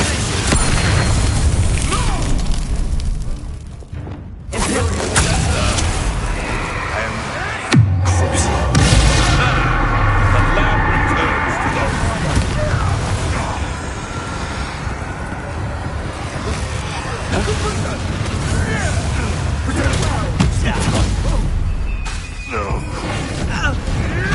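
A Confringo blasting curse in a Harry Potter video game sets off a dense, rumbling explosion that roars on with crackling debris. A spoken incantation sounds at the start, and a second sharp blast lands partway through.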